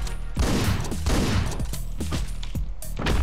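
Gunfire in Hotline Miami, rapid crackling bursts of shots in clusters, close and punchy, with short gaps between volleys.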